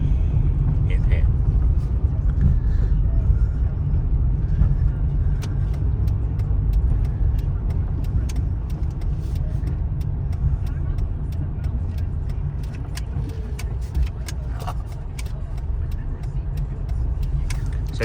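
A car is being driven by a learner, heard from inside the cabin as a steady, loud low road and engine rumble with faint ticks over the top, continuing without a break.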